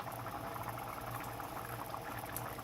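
A pot of bean stew simmering at a low, steady bubble, soft continuous popping and gurgling close by with no voices.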